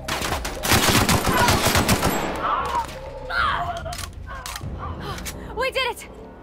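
Rapid automatic gunfire from a weapon in The Outer Worlds video game, a loud dense burst of shots for about two seconds, followed by scattered mechanical clanks, impacts and game sounds with voices.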